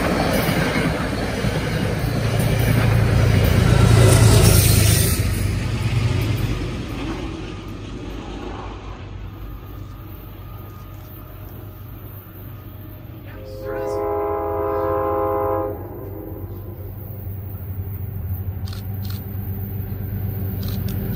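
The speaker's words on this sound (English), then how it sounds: "That was a southbound Empire service train with another P32" A southbound Amtrak Empire Service train hauled by a P32 locomotive roars past beside the Hudson River in Scarborough, loud at first and then fading, before one sustained horn blast sounds from farther off.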